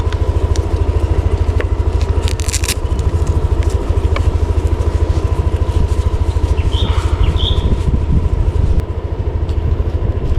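A Yamaha Aerox 155 V2 scooter cruises through San Jose del Monte, Bulacan, its engine humming steadily up close under constant wind and road noise, with a few brief clicks and rattles.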